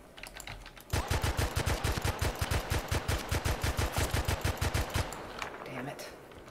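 An M60 light machine gun fires in Battlefield Bad Company 2, a loud, steady burst of rapid evenly spaced shots lasting about four seconds after a quiet start, then falling silent with faint game ambience.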